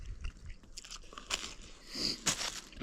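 Crunchy toast chewed outdoors in a forest during a meal, with close, irregular bites and crackling crunches over a few seconds against faint outdoor background.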